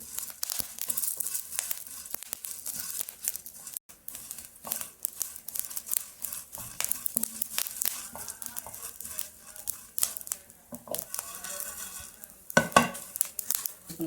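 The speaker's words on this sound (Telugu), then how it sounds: "మనం ఇలా లైట్గా వేయించుకోవాలి." Fenugreek seeds, cumin, coriander seeds and curry leaves are dry roasted in a pan. A light dry crackle and rustle comes with repeated scraping stirs close up, with no talk.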